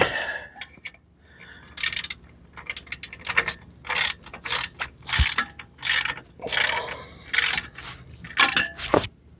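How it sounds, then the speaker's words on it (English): Socket wrench ratcheting on a bolt in the engine bay of a Jeep TJ Wrangler, a series of short clicking bursts with small pauses, close up and without talk. "this is another bolt right here to tighten"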